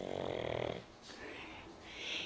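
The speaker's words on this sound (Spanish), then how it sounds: "Está roncando ya." A person snoring nearby in a quiet bedroom at night, a few rough, breathy snores rising and falling over a couple of seconds, fairly soft and heard alone.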